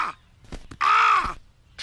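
A large cartoon blackbird, taken for a crow, gives one harsh, drawn-out caw in a Bob the Builder children's TV episode. The call is loud and close, with brief rough squawks around it.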